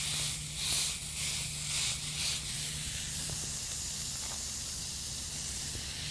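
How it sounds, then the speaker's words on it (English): A bright hiss starts in bursts then settles into a steady sizzle as cooking spray hits a hot cast iron pan, close and continuous, with a low hum underneath and no talking. "I have a nice hot cast iron pan with the tiniest bit of cooking spray."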